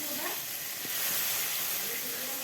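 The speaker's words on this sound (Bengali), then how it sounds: "এরপর একটু ভাজা হয়ে গেলে আমি পেঁয়াজ বাটাটা দিয়ে দিলাম।" Onion paste frying in hot oil for a fish curry, giving a dense, even sizzle that holds steady and fairly loud throughout, with a faint voice briefly underneath.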